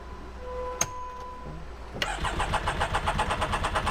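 A Can-Am X3 side-by-side with a different battery fitted: a click and short clunks, then from two seconds the engine cranks in a steady rapid rhythm, loud and close, without catching.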